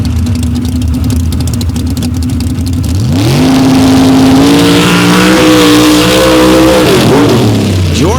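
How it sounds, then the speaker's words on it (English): Two Chevy big block pickup trucks launch side by side at a Super Stock and Pro Stock drag race, one with a John Conkle big block; engines idle, then roar loud and close, climbing hard through rising revs that stay steady before fading. "Going side by side with Rick George with a big John Conkle Chevy big block in the front of the Chevy pickup"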